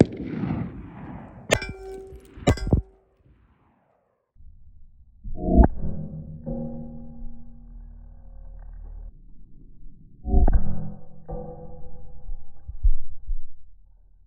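Two 5.7x28 Black Dragon rounds fired at armor ring out as loud, sharp clangs in quick succession, then further metallic clanks and ringing, resonant impacts with long decaying tones, no speech.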